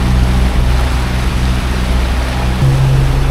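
Small waves washing around a catamaran on open water, mixed with a steady low engine drone and constant wind, loud and close, with no voices.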